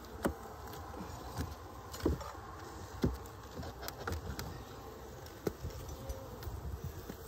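Bees buzz at a beehive in early March: a steady, close insect hum runs throughout, with scattered light taps and bumps over it and no talking.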